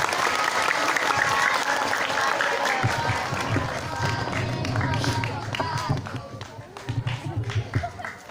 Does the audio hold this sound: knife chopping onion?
no